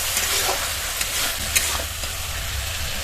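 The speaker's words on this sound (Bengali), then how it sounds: "মশলা থেকে তেল ছাড়া পর্যন্ত কিন্তু মশলাটা দেখুন খুব ভালো করে কষিয়ে নিয়েছি" Spice paste for a Malabar spinach (puishak) dish fries in oil in a pan while being stirred: a steady close sizzle with soft scraping strokes, and no voices.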